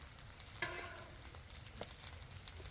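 Taco shells fry in oil on a Blackstone griddle, giving a soft, constant sizzle with a couple of light spatula taps, faint and steady, with no talking.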